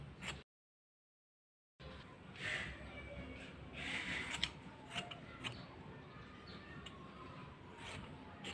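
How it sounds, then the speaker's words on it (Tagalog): Small scissors snip through a child's short hair in a home haircut, giving faint, quick clicking cuts in scattered bursts close to the ears, with light breathing and rustling and no speech. "Maliit kasi yung gunting"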